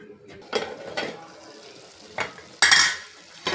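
Spoon stirring a potato and green pea curry in a pan, several scraping strokes with clinks against the metal over a soft background simmer, no talking.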